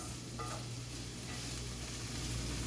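Meat cooking in a pot on the stove, a constant close sizzle and bubbling with an underlying low hum, steady throughout with faint stirring movements.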